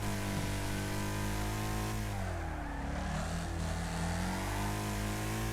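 Car engine in the Wreckfest racing game at Boulder Bank Circuit, a steady loud drone that dips briefly as the driver brakes into a corner and then climbs again under power, with no talk over it.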